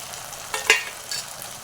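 Chilli paneer with Schezwan sauce and sesame seeds is stirred in a hot pan, a soft sizzle with one or two brief scraping knocks of a spoon.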